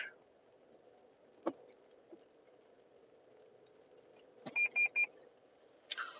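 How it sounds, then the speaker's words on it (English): A quick series of three high electronic beeps sounds over a quiet car hum, with a couple of sharp clicks before and after. "Oh, you hear that beep?"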